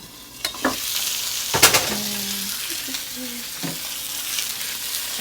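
Carrots are stirred in a hot frying pan, with a steady sizzle broken by a few sharp scrapes and clacks of a utensil against the pan, close and fairly loud.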